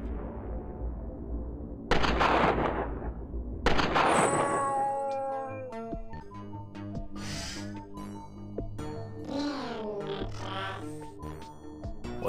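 Gunshots in the surreal exploration RPG Middens: two sharp loud bursts with decaying tails come early, followed by odd tonal, warbling game sounds.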